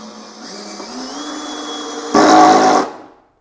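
A cordless drill in forward gear with its clutch set to 10 whirs as it drives a screw into timber, then breaks into a short, loud rattling burst as the clutch slips before the motor stops.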